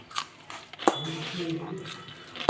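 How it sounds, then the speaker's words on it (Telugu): A spoon mixing rava puri dough with coriander powder, salt, chilli and turmeric in a bowl, with soft scraping and a few clinks against the bowl under a talking voice. "కొద్దిగా ధనియా పౌడర్ కూడా వేసుకొని మొత్తం అంతా ఇలా మిక్స్ చేసుకోవాలి"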